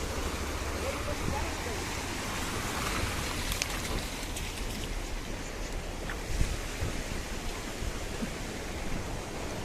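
Broad, continuous roar of the flooded, overflowing Uben river during monsoon rain, steady and dense, with wind noise and faint indistinct voices in the background.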